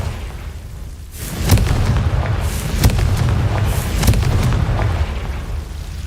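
Confringo spell blasts in Hogwarts Legacy: three or four sharp booming bursts about a second apart, each a sudden crack with a short rumbling tail, over a steady low background hum.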